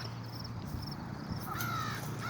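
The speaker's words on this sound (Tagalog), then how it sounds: "Uhuy, may uwak." A crow cawing in a park, a few harsh calls toward the end over steady outdoor background noise, moderately distant with no talking.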